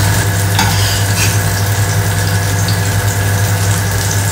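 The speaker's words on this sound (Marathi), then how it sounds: "इथे झुकिनी मस्त फ्राय होते" Zucchini slices shallow-fry in oil in a pan, giving a steady, close, continuous sizzle with a low hum beneath and no pauses.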